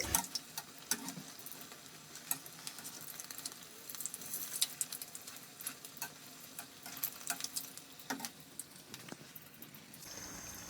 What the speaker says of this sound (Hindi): लो टू मीडियम आंच पर हम समोसों को फ्राई करेंगे ताकि बहुत ही क्रिस्पी बने